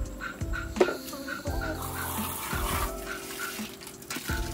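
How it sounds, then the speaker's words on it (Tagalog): Water running from a tap to wash Yamaha Mxi 125 scooter CVT parts, a steady splashing stream with clinks and a faint dog barking intermittently in the background. "Lagyan natin tubig."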